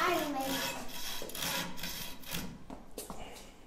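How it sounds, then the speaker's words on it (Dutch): A hand saw cuts through wood in a home workshop while a child makes a shoe brush and boot jack, giving steady close rasping strokes with a faint voice in the background. "Je moet de zaag laten werken."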